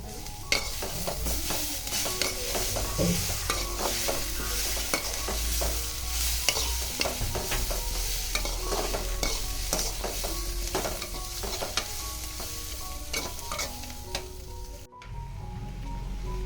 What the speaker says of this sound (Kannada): ನೋಡಿ, ಈರುಳ್ಳಿ ಇಷ್ಟು ಫ್ರೈ ಆದರೆ ಸಾಕು.